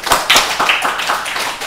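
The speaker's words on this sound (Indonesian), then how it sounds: "Tepuk tangan dulu dong." Brief burst of audience applause, several loud, close claps in an uneven rhythm with no voices.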